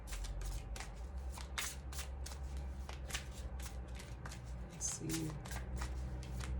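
Tarot cards being shuffled in repeated crisp riffling bursts, steady and close, over a low hum, with a brief spoken murmur partway through.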